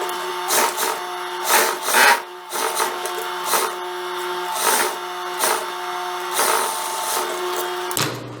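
A sewing machine stitches the inner seam joining two parts of a wide-leg jumpsuit, its motor whirring steadily with rhythmic surges in speed, loud and close, then stopping abruptly near the end.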